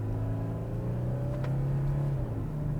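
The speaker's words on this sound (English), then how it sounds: "It's one of the most refined diesel engines I've ever experienced." A 2016 Porsche Cayenne Diesel engine revs steadily up toward its 5,300 RPM redline, a smooth, continuous drone with rising harmonics, heard close and loud with no talking.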